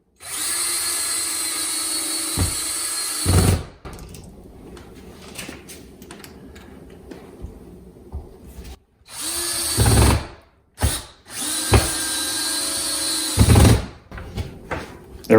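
A power drill drives wood screws into a wood strip on a kitchen wall for a subway tile backsplash, its loud whirring motor running in several bursts of a second or two, each stopping abruptly, close up and with no talking.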